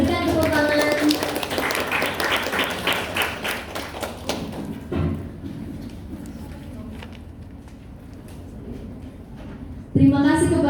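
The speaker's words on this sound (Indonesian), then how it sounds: "Berikan tepuk tangan." Audience applause at a school quiz competition award ceremony, loud clapping that fades about halfway through and then a single sharp sound near the end.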